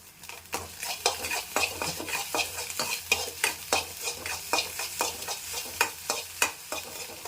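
A spoon stirs turmeric through egg rice in a pan, scraping in a steady run of close, sharp strokes over a faint sizzle, with no voices.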